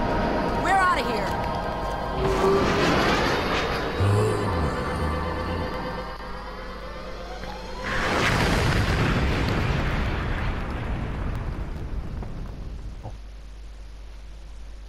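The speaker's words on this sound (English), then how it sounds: "That is a mighty fine explosion." A big explosion in the video game Jak 2: Renegade erupts partway through, a loud burst that rumbles and decays over several seconds, with game dialogue and a speaking voice before and after.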